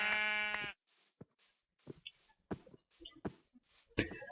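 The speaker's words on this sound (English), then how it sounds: "Tackle these very dangerous sheep." A sheep in Minecraft lets out one loud bleat, followed by a string of soft, scattered footsteps and small thuds.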